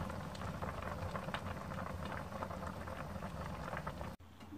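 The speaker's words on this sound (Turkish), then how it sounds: "Böyle şerbeti üstüne çıkacak, fokur fokur kaynayacak." Thick sugar syrup for ekmek kadayıfı bubbling and popping steadily in a pot, a dense continuous crackle that cuts off abruptly near the end.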